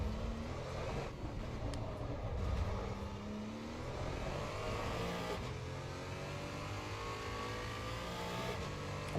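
Simulated Porsche Cayman engine lapping the Nordschleife in Assetto Corsa EVO, a steady loud drone with rising and falling revs through gear changes, running continuously without any talk.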